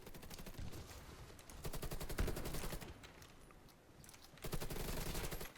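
Automatic gunfire from the FY-47 rifle in the shooter game Warface, several sustained bursts of rapid shots separated by short pauses, loud and dense, with no talking.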